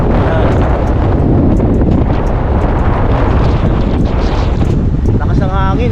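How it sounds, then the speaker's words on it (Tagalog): Strong wind buffets the microphone in a loud, continuous roaring rumble throughout, with a voice briefly heard near the end. "Lakas ng hangin."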